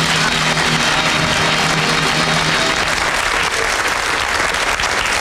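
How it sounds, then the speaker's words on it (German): Loud studio audience applause breaks out at a German television comedy show, a dense clapping that continues for several seconds. "Applaus für die Gimmicks!"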